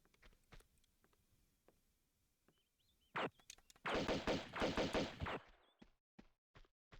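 Gunfire in the video game Tomb Raider 2 crackles as scattered single shots, then a dense burst of rapid automatic fire for about two seconds, followed by a few spaced final shots, loud and without talk.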